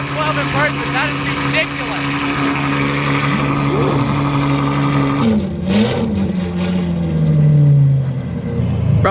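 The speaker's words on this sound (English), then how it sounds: "that thing sounds like a damn race car" Sports car engines revving at a supercar lineup that includes a Ferrari F12, loud and sustained with a rising, swelling roar near the end, while people talk throughout.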